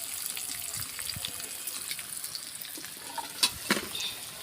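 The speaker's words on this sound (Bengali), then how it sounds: "আরেকটু ভাজবো, আরেকটু।" Potatoes frying in a pan, a soft steady sizzle close by with scattered spatula scrapes and a few sharper clatters toward the end.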